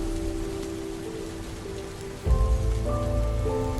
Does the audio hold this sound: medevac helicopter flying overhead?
no